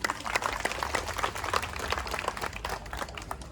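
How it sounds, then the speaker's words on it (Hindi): An audience at an organisation meeting claps together in sustained, even applause, moderately loud and continuous, with no talk over it. "सभी एक बार जोर तालियों से उनका अभिवादन कीजिए"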